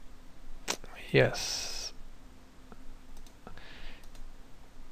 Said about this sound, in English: I double click on it